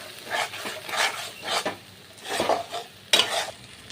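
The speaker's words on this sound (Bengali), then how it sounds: "তো পুরের জন্য মিক্সারে যে পেস্টটা আমি করে নিয়েছিলাম সেগুলোকে কিন্তু এই মশলার উপরে দেব" Ground paste is stirred into spices frying in a pan, with repeated scraping strokes of a spoon against the pan over a light sizzle, close and rhythmic, without speech.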